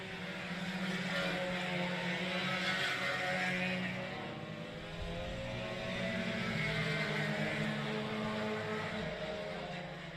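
Sport compact race cars circle the 3/8 mile dirt oval at Cotton Bowl Speedway, a steady loud engine drone running unbroken, swelling and easing slightly as the pack passes in single file.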